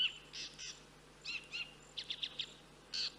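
Out in the African bush, a bird gives a string of short, thin chirping calls in scattered bursts over a low, steady background hiss, sounding faint and distant rather than close by.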